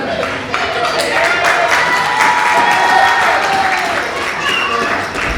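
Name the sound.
wrestling crowd clapping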